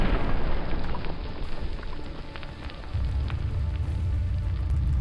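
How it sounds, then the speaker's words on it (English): Thermobaric ammunition igniting inside an armored vehicle after a drone strike: a dense, roaring wash of fire noise with scattered crackles. A heavier low rumble swells in after about three seconds and holds steady, with no voices. "It sparks a fire that quickly reaches the thermobaric ammunition."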